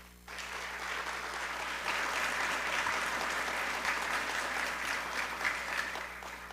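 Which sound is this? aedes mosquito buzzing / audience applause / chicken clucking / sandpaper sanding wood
audience applause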